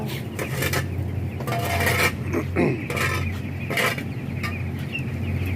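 Chickens clucking inside a coop, several birds calling in overlapping bursts near and far, with clinks of metal feeders or pans mixed in and steady background hum.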